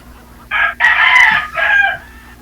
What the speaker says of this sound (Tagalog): May tumitilaok dyan.